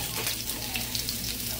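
Squash and zucchini sizzle steadily in hot avocado oil in a pan, a close, even crackle with soft hiss and no talk.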